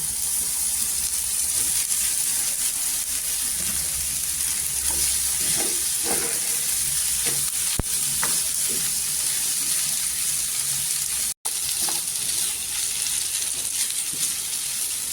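Potatoes sizzle and crackle steadily in hot tempering oil close up, with occasional stirring scrapes.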